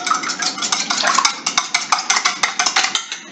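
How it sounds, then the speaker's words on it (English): Two eggs with black pepper and garlic are whisked briskly in a bowl for an omelette, a fast scraping clatter of whisk against the sides, close up, that settles into an even beat near the end. "So I'm gonna go ahead and whisk that"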